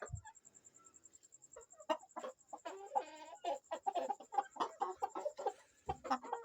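Tiger breed chickens and a three-kilogram, three-month-old rooster clucking in a farm pen, a busy chorus of overlapping clucks and squawks building after a quieter start, with a steady high-pitched electronic tone running throughout.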